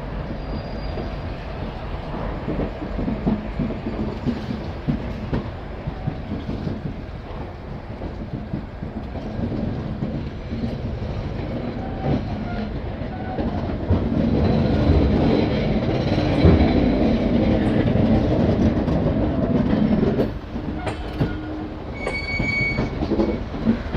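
A diesel Alco locomotive hauls the Padatik Express out of Bardhaman station in the morning, its steady engine throb and rolling wagon rumble carrying on without pause, with wheel squeal and clatter rising toward the end.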